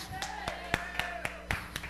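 Audience members clap together in a steady, evenly spaced rhythm, roughly four claps per second, moderately faint, with a tonal instrument sound lingering underneath.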